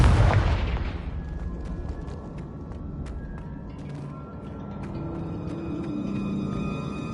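A Confringo fire spell blasting in Hogwarts Legacy on PS5 starts with a loud boom that decays into a long rumbling tail, followed by scattered sparkly magical tones and a faint ambient hum.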